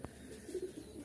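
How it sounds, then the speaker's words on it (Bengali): Giribaj pigeons coo softly at a bustling pigeon market, a few low murmuring coos over a hum of background noise, heard briefly and alone without talk. "এখানে যে কবুতর জোড়াটা দেখতে পাচ্ছেন"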